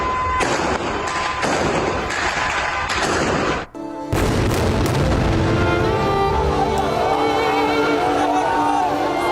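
Fireworks go off over Gaza streets at a ceasefire celebration, with repeated booming bursts and crackles, loud and sustained, mixed with crowd noise and cheering in the streets.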